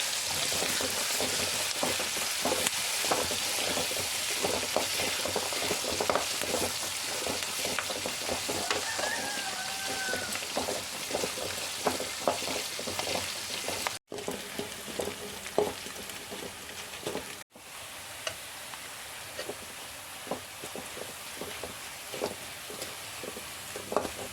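Garlic and curry leaves frying in a pan for a mango and ginger pickle, a steady, fairly close crackling sizzle that runs throughout with two brief dropouts.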